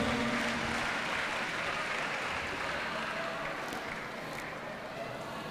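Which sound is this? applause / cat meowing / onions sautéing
applause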